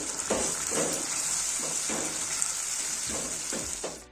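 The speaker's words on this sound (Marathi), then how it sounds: "थोडासा टोमॅटो सॉस टाकू मिक्स करून घेतलेली मक्याची पावडर टाकू आता हे सर्व मिक्स करून घेऊ" A spoon stirs tomato sauce and a cornflour mixture in a hot pan for hotel-style chilli chicken, making a continuous sizzle with a slow, regular series of scraping strokes, near and fairly loud.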